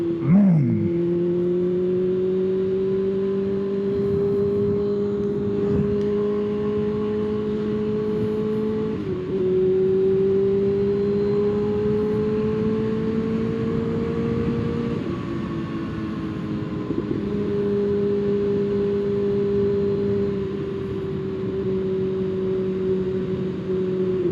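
A Kawasaki ZX-6R sports motorcycle engine hums and drones steadily while being ridden, its pitch holding and shifting slightly between gears over a long stretch, with wind noise and no talk.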